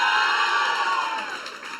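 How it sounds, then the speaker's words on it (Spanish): Church congregation cheering and shouting in praise, a brief burst of loud crowd noise that gradually fades over about two seconds. "Denle el aplauso al Señor y denle un grito de guerra."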